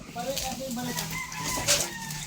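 A chicken clucks and calls nearby, with a brief crowing note, and faint voices are in the background.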